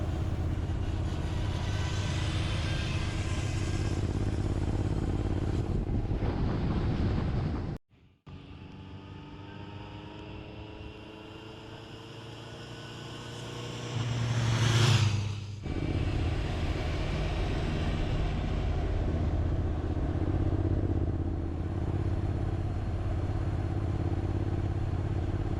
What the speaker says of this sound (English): what you're hearing here is my NC, as Norman follows me on the CB